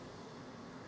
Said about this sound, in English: if you hear the beep, it means that you reach the central position